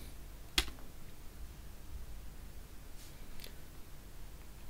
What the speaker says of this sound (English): I will go back to my terminal and paste it and press on return